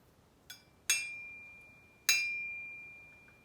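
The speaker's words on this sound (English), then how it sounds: "It doubles as a tuning fork." A metal part of a 9Barista espresso maker is tapped three times, a faint first tick and then two clear strikes, each leaving a pure, tuning-fork-like tone that rings and slowly fades.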